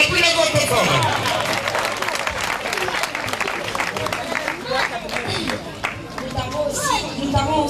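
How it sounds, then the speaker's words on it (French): An audience claps loudly and steadily at a family 75th birthday celebration, dense applause mixed with children's voices and crowd chatter, with people speaking over it. "On applaudit encore très fort."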